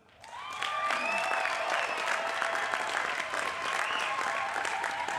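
Applause for honorary degree recipients at a college commencement ceremony swells within the first half second into a steady, dense wash of clapping from a large audience, holding loud and even throughout.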